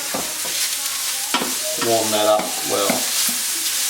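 Mushrooms frying in a well-heated pan give a steady, close sizzle throughout, with a few brief words spoken over it.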